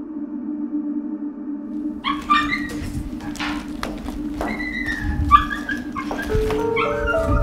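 A dog whimpers with high, wavering whines and yips, breaking into a few short barks, close and fairly loud over a steady low background hum.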